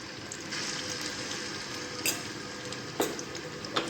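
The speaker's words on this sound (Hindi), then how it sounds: "लहसुन अदरक का पेस्ट जो है वो फ्राई हो चुका है।" Garlic-ginger paste frying in about a third of a cup of hot oil for a chicken curry, a steady close sizzle with a few sharp clinks from stirring with a utensil against the pan.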